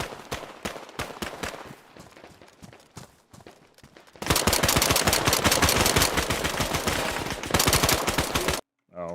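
Gunfire in a survival video game set in Chernarus: scattered single shots at first, then a long dense burst of rapid automatic fire, loud and close, ending abruptly.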